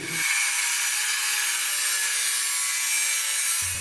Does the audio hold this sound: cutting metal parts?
yes